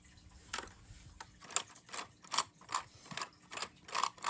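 A Lego vacuum engine running, producing a steady rhythm of light plastic clicks and ratcheting taps, close and moderately quiet, repeating about twice a second.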